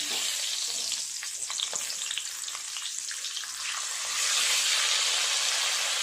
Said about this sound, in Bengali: তেলটা খুব ভালোভাবে গরম হয়ে গেছে, উচ্ছেগুলো দিয়ে ভেজে নেব।